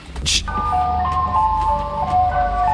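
A white ice cream van creeps slowly through a neighborhood, its jingle playing as a steady run of bright melody tones over low engine rumble, after a brief burst at the start.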